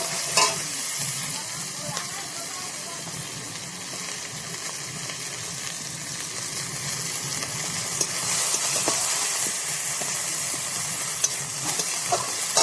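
Lightly fried onions tossed into a pan of hot oil for a snakehead fish curry with taro and potato, giving a loud, continuous sizzle and hiss with occasional stirring scrapes, close up and with no talk.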